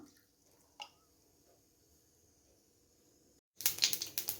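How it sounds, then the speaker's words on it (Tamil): Mustard seeds splutter in hot oil in a pan while sambar is being tempered. After a near-silent stretch with a single faint click, a sudden burst of loud, rapid crackling and popping fills the last second. "ஒரு வாணலியில் எண்ணெய் விட்டு கடுகு தாளிச்சுட்டுருக்கேன்"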